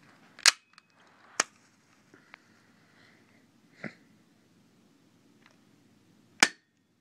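An HA-117 Glock 17 airsoft pistol fires BBs: four or five sharp, snappy shots spaced irregularly, close and loud against near silence.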